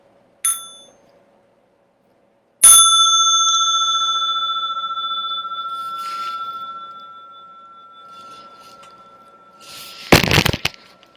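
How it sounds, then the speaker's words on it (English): A small meditation bell rings clearly twice, a brief ting followed by a longer, ringing strike that sustains and slowly fades in a quiet room, with a rustling clatter near the end. "Small bell for stretching and massage."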